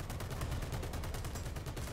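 Rapid, sustained .50 caliber heavy machine gun fire in War Thunder, a dense stream of loud booming shots with no pause.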